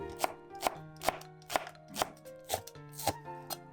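A knife slices onion into thin strips on a cutting board, eight crisp, evenly spaced chops ringing out close and alone.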